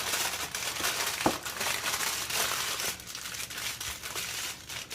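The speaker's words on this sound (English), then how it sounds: "you would put it on your aluminum foil" Aluminum foil crinkles and crumples continuously as it is wrapped around a Nutella-filled chocolate kiss, close and crisp with small crackling bursts throughout.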